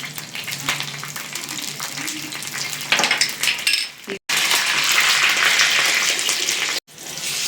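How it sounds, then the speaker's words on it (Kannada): Curry leaves hit hot oil on a tawa while vanjaram fish fries, giving a loud, crackling sizzle that surges and spits. Metal clinks and scraping come through, and short gaps break the sound. "ಈಗ ಇದಕ್ಕೆ ಕರಿಬೇವು ಹಾಕ್ಕೊತಿದ್ದೀವಿ."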